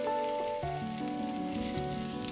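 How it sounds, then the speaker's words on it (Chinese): White radish is stir-fried in a pan with garlic and scallion whites, a steady close sizzle with faint stirring, heard under soft background music. "然后倒入白萝卜，"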